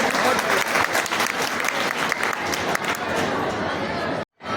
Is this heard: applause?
yes